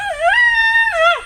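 A dog lets out a single drawn-out whine, close and clear, rising then holding steady before bending upward again and falling away, lasting just over a second.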